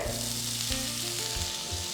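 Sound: chopped onion frying in oil

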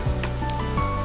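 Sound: masala sautéing and sizzling in a pan

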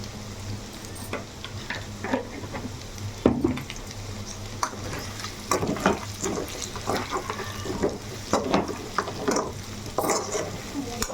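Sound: spices frying in a pan

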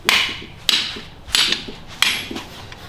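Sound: hammer striking car brake parts

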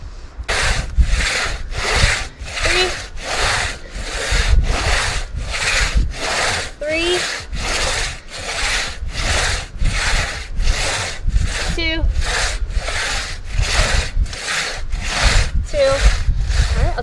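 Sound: crosscut saw cutting down a tree

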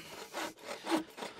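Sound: hand saw sawing wood

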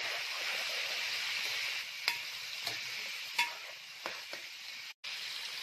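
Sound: stirring goat head curry in a pan

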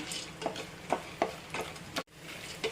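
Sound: roasted chickpeas (pottukadala) frying in ghee

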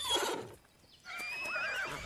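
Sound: horses whinnying in animated film Spirit: Stallion of the Cimarron

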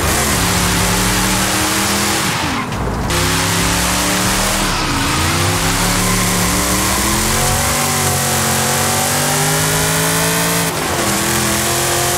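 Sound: Ferrari Daytona engine revving in video game Forza Horizon 5

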